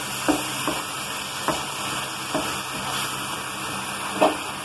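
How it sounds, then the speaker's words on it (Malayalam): A spoon stirs a snack mixture in a pan, giving a steady sizzling hiss with a few soft scraping knocks spaced through it, close up. "ഇതൊന്ന് നല്ലപോലെ ഇളക്കി കൂട്ടാം നമുക്ക്."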